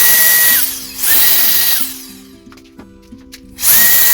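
A turbo jet blower fan sprays air to clean a floor, giving loud high-pitched whining bursts that spin up and cut off three times, with a quieter pause between the second and third bursts.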